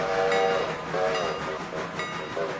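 Steam-style train whistle blown in the railroad video game Railroader, sounding in three separate rising and falling blasts over a steady rumbling background, loud and close.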